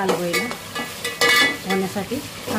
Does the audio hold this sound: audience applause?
no